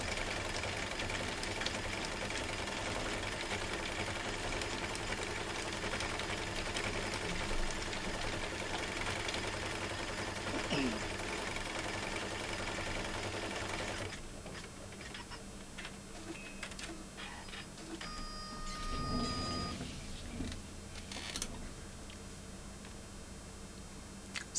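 An embroidery machine stitches pink details into a design, giving a steady, continuous mechanical whir and rapid needle chatter that runs unbroken throughout, shifting to a slightly lighter tone partway through.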